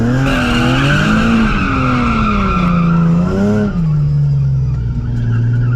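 Nissan 370Z at full throttle with its tires skidding: a loud, continuous engine roar climbing and dipping in pitch under a steady screech of tire squeal, close and unbroken throughout.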